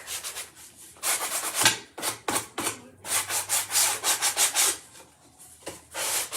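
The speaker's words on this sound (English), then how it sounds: "So I'm just going to sand the top a little bit." Sandpaper rubs across the top edge of a wooden spring farmhouse door hanger, close and crisp, in repeated short strokes separated by brief pauses.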